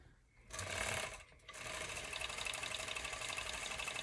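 A serger sewing machine runs with a fast, even whirring buzz, starting up, pausing briefly, then running steadily and loudly at close range.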